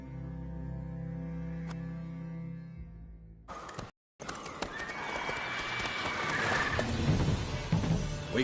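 Roach the horse in The Witcher 3 gives a whinny and trots, hooves clip-clopping over ambient game sound, broken by a sudden brief dropout before the scene continues with busier noise.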